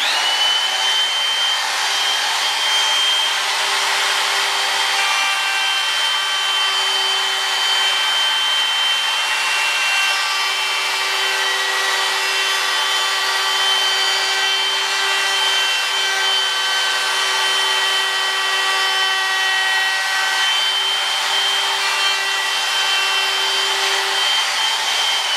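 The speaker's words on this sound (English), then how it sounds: "I'm just going to use a router with a straight cutter bit, and I'm going to freehand it" Router fitted with a straight cutter bit, run freehand to cut holes in a body panel for a 1937 Studebaker, giving a constant loud high whine that holds steady and close throughout with no talking.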